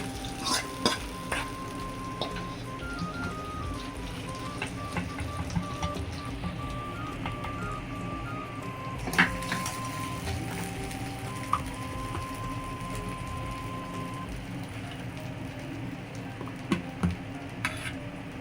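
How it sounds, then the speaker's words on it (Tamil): Tempering being stirred into ridge gourd dal in a pan, with a steady close sizzle and frequent scraping, clinking spoon-against-pan sounds recurring throughout, no talking. "தாளிச்சதை இந்த பருப்போடு சேர்ந்து கலந்துக்கணும்."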